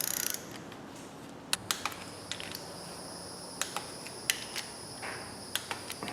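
A torque wrench tightens the cylinder head bolts on a 1929 AV8 coupe engine, producing a run of sharp ratcheting clicks in small bursts over a quiet hum, close by with no talk.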